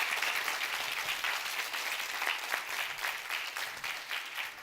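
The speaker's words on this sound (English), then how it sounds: "Let's give them a round of applause, you guys." An audience applauds at the close of a talk, a dense, steady clapping that fills the whole stretch with little variation in loudness.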